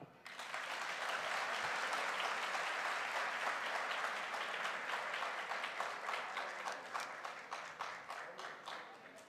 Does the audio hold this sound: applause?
yes